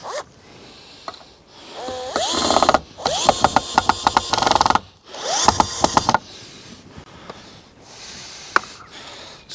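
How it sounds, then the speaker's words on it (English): A power drill drives a screw into wooden tunnel framing in several loud whirring bursts with rising pitch, separated by short pauses and light clatter, fairly close. "And then we're just going to put a screw in here."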